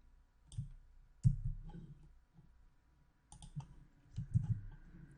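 Sharp computer mouse clicks during a WordPress database setup in cPanel, a few quick isolated clicks spread across several seconds with quiet gaps between them.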